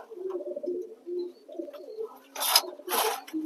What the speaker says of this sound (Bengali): যতগুলো পায়রা আছে সব এক এক করে সব পায়রাগুলোকে ধরে ধরে খাওয়াবো।